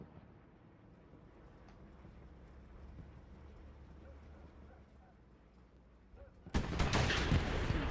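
Tank cannon fire erupts suddenly and loudly near the end of a Sherman versus Panzer IV battle in a video game, a sharp broadband blast with a rumbling tail after several seconds of low engine and ambient noise.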